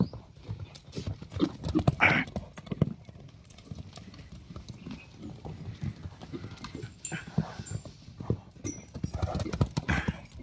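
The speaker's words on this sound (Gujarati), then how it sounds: "આ બાજુ અમારે દિલબાગ દોડે રિંગમાં" A horse gallops around a ring, its hooves clip-clopping in a quick, uneven rhythm at moderate distance, with a few louder thuds and no talk over it.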